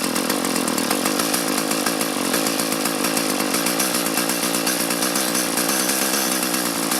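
Small 2-cycle engine on a mini tiller runs at high idle, a loud, steady, buzzing drone with a rough, rapid pulsing flutter, close and unbroken throughout.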